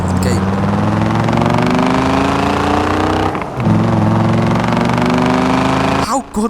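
Car exhaust in the Forza Horizon 4 racing game, a loud sustained engine drone holding steady, with brief dips and changes near the middle and end, heard alone without talk.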